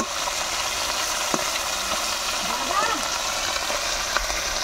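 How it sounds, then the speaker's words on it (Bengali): Fish fries in oil over a wood-fired clay stove, a steady hiss and sizzle with small crackles, and a faint voice murmurs briefly in the background. "এখানে তাড়াতাড়ি মাছ ভাজা হয়ে যাবে"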